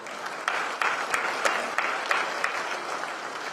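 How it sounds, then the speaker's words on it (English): A crowd at a Texas governor's campaign stop in Tyler applauds steadily, a fairly soft, distant wash of clapping with a few sharper individual claps standing out, and no one speaking over it. "I hear you applauding"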